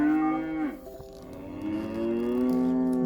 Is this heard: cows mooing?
yes